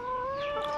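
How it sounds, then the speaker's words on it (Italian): Hens clucking on a farm, a close continuous vocal sound with steady tonal calls held over the whole short moment, no talk. "anche le galline hanno sete, mamma mia"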